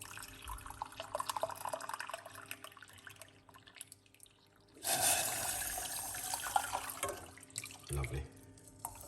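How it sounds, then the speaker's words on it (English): Hot water poured from a kettle for beetroot, ginger and lemon tea, a sudden rushing splash midway that tails off, followed by a short second pour, with quiet clinks and faint talk before it. "Using hot water from our kettle."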